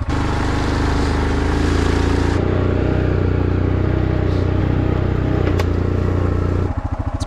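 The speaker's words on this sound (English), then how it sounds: "today we're on a four-wheeler heading up the mountain" A four-wheeler ATV engine drones steadily at close range while climbing a mountain trail in the alpine, a loud continuous rumble with rattling clatter, shifting to a choppier pulsing idle near the end.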